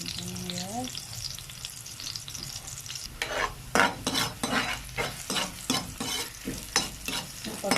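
Chopped onion sautéing in a frying pan, starting with a low sizzle, then a spatula stirring in repeated rhythmic scrapes over crackling oil, close up. A short voice is heard at the start.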